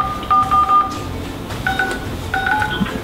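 Phone keypad tones while setting up a conference call, several short paired beeps in separate bursts, moderately loud over low room noise.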